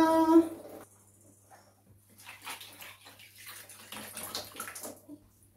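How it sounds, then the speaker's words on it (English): Hot water is poured and splashed over a newborn baby during a traditional African bath, with intermittent close-up splashing and trickling in short bursts and quiet pauses between. "Let's put some hot water on the navel."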